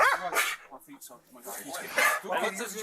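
A police dog barking and yipping close by during a search, sharp repeated barks tangled with shouting voices.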